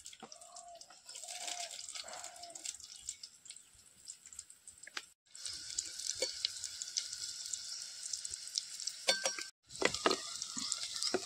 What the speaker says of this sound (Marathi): मी आता कांदो फोडणीत घालते.